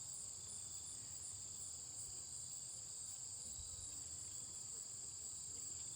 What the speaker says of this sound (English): Sometimes it's nice just to come out here and listen to the bees.